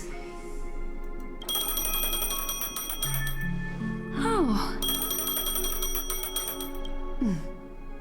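A telephone rings inside a video game, a bright electronic tone repeating in steady bursts with a short gap midway, while a voice briefly exclaims over it.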